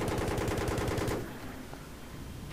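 Helicopter guns firing in Battlefield 3, a fast, loud stream of shots for about a second that cuts off and leaves a lower engine rumble.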